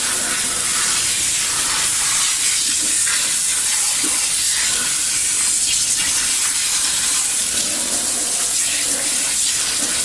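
Water sprays steadily from a shower head onto a Shih Tzu during its bath, producing a loud, continuous hiss with soft splashing that varies slightly in strength and runs the whole time with no talk over it.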